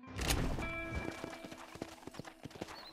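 Horse hooves clip-clop in the video game Red Dead Redemption, a steady rhythmic trot of crisp knocks that grows from a louder opening into lighter, evenly spaced footfalls.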